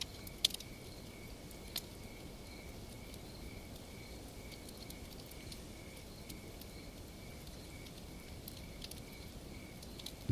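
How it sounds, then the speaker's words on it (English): Crickets call through the night in a thin, continuous high trill with faint scattered clicks and ticks beneath, steady and moderately distant, with no voices. "The crickets here call all night long."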